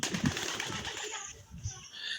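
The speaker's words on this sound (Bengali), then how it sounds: "কালো রঙের যে কবুতরগুলো দেখছেন সেগুলো মূলত গরোরা কবুতর।" Black Gola pigeons in a loft coo softly with some wing flapping, faint and close, over a light background hiss.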